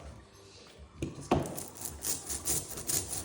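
Soft tacky rolling and rubbing noises of an inked roller on a screen-printing screen, quiet at first then louder, repeated short passes with a sticky scraping texture.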